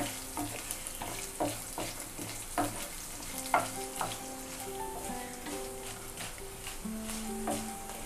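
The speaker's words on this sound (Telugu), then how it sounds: "జీడిపప్పు కొంచెం గోల్డెన్ కలర్లోకి వచ్చే వరకు వేగాలండి." Cashews with ginger and pepper fry in oil in a pan, giving a steady crackling sizzle with repeated clinks and scrapes of stirring, close and fairly quiet, with no voices.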